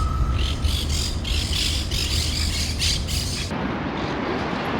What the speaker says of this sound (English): I've just spotted those parrots.